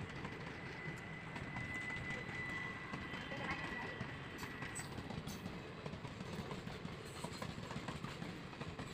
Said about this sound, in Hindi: ये ट्रेन अभी हरिद्वार जा रही है और बांद्रा से चल के आई है